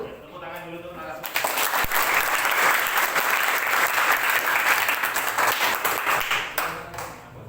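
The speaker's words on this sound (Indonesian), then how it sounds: "Tepuk tangan dulu untuk narasumber." Audience applause for a guest speaker at a legal outreach session on bullying and cyber crime for junior high students, a dense steady wash of clapping that starts after a second of speech and sustains loudly before fading near the end.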